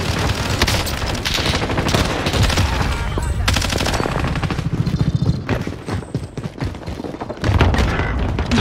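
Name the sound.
rocket launcher firing in a Call of Duty video game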